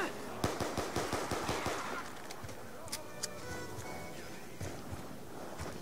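Rapid gunfire in the Black Ops 2 Zombies Tranzit mode rattles off in quick bursts of sharp shots, then thins to scattered single shots amid game noise, with faint talk underneath.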